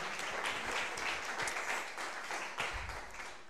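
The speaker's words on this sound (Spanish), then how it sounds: "Dale un aplauso a papito por eso" Steady audience applause at a church service fills the whole stretch, a dense wash of many hands clapping at an even level with a faint voice or two underneath.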